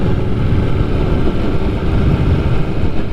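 A motorcycle engine pulling away in first gear as the clutch is slowly released, a loud, steady low rumble close by with no other sounds.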